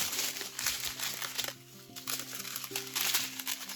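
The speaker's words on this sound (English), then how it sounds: "that crinkling was really loud" Plastic packaging crinkles loudly and continuously while diamond painting canvas kits are unboxed, with dense crackling bursts close to the mic over a faint background hum.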